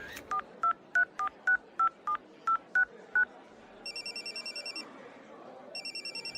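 A phone number is keyed in, about ten evenly spaced touch-tone beeps, then two bursts of a repeating electronic ringback pulse that goes unanswered, all clear and close with no talk.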